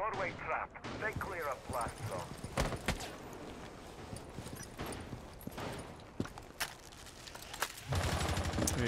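Gunfire exchanged in a Rainbow Six Siege esports match, with sharp bursts and scattered shots ringing out through busy, continuous game action and ambient noise.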